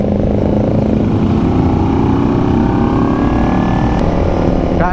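A 2009 Kawasaki Ninja 250R climbs a hill with a loud, steady engine note that rises slowly in pitch under heavy wind rush from riding, with no speech heard.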